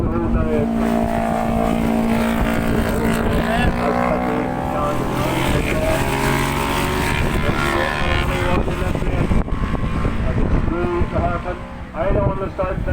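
Superbike engines roar past at Kirkistown circuit during a race, a loud sustained mix of revving and high-pitched whine with shifting pitch, heard under a commentator talking throughout.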